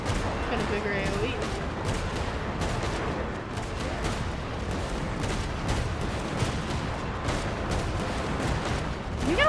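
Weapon fire in Genshin Impact during a battle with a large area attack, a steady dense wall of booming blasts and crackle that runs throughout, with a voice talking faintly beneath it.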